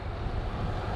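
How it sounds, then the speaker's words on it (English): Steady, loud wind on the arid north coast of Aruba, rushing and buffeting against the microphone, a constant low roar with no other sounds. "windy on the north coast"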